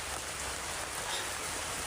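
Steady rain falling, a dense, even hiss of drops on surfaces filling the air without a break, fairly loud and close, with no voices.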